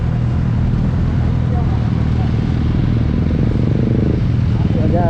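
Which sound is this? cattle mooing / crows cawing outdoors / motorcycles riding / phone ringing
motorcycles riding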